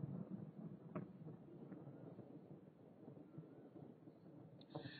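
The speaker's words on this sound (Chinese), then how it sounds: "你们有听到这个声音吗？ 雷声。" Thunder rumbling low through a quiet outdoor scene in Singapore, a drawn-out distant roll with a sharper crack near the end and some wind noise.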